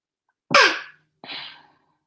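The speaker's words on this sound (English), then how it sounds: "We had to sneeze." Two sneezes in quick succession, the first sharp and loud, the second slightly softer, with silence around them.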